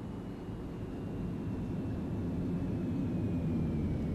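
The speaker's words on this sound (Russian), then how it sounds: "О, самолетик, кажется, летит, судя по звуку." A propeller airplane drones overhead in the video game Operation Flashpoint, a steady broad rumble that swells slightly as it passes, with no other sounds over it.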